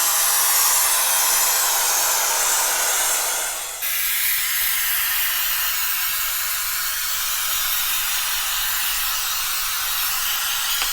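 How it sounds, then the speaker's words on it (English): Can-sprayed wall texture hissing onto a drywall patch in steady close bursts, briefly pausing partway before the spray resumes with a slightly different tone. "Now that we've sprayed our texture,"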